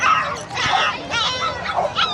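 A puppy at the Bocaue pet market barks in short yips and whimpers, close by and repeated, beneath people talking and general market chatter.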